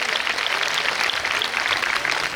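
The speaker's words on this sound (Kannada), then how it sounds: "ಜೋರು ಚಪ್ಪಾಳೆ ತಟ್ರಿ ಎಲ್ಲರಿಗೂ" A crowd at a village gathering in Hipparagi claps together, a brisk, even patter of many hands at moderate volume that continues without voices.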